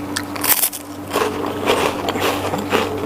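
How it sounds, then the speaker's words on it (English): Biting into a crispy Ritz cracker up close, a sharp crunch followed by several crackling chews, loud and dry over a faint steady hum. "So yeah, I'll give a bite and see how it tastes."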